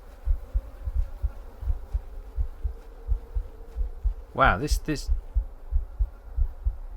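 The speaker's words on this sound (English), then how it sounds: "You can hear our heartbeat as well." Slow, regular thumping heartbeat from the video game The Excavation of Hob's Barrow, set in a creepy underground barrow, pulses steadily and close throughout, with a brief exclamation from a voice midway.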